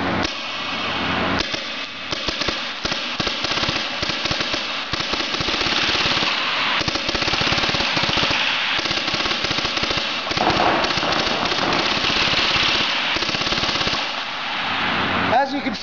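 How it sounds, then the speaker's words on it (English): A TM7 paintball gun tuned to fire 20 balls a second on a remote air line, a rapid rattling stream of shots in long bursts with brief gaps, loud and close throughout. "we tune the gun up so it's all set for 20 balls a second"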